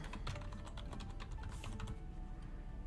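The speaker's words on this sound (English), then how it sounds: "Let me just type in Butterfree." Quick, close typing on a computer keyboard, a dense flurry of crisp key clicks with a few heavier taps, running steadily for a few seconds.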